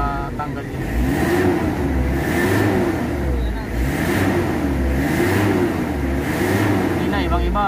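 A Toyota 2L diesel engine with black smoke, low power and lost compression runs with rhythmic revving that swells and eases every second or so, and a voice talks over the steady rumble.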